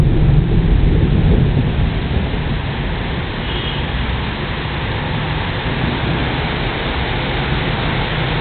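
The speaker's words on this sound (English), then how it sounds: "Thunder. I love thunderstorms." Thunder rumbles low and long through a heavy rainstorm, the deep roll fading gradually under a steady hiss of rain falling outdoors.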